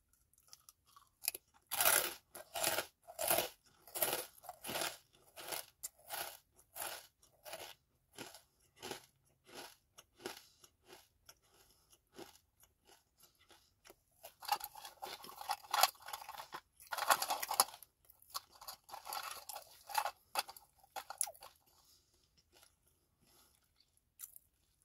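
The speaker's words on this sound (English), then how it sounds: "Let's do an open mouth crunch." Open-mouth chewing of garlic herb crostini, close and crisp, with rapid bursts of dry crunching bites at a steady pace, pausing briefly before a denser, louder run of crackly crunches, with no talking.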